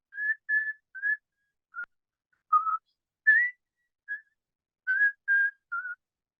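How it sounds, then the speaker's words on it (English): A person whistles a short tune of about a dozen clear, separate notes, bright and close, with small gaps between them and no talking. "Can you whistle real quick?"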